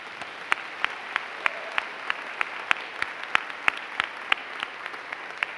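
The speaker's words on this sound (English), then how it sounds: "join with me in another round of applause for our wonderful Mount Royal faculty" A convocation audience applauds its faculty with steady clapping from many hands, some nearby claps cracking out sharply above the dense patter. The applause holds fairly even throughout.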